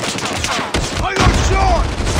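Gunfire in Call of Duty Mobile crackles in quick loud bursts during a ranked match, a dense rattle of shots with a sharp impact near the middle, game voices speaking over it.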